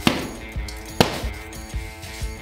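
Hard candy layers cracking and shattering like glass, two loud sharp breaks followed by smaller clinks and crunching pieces, close and alone without talk.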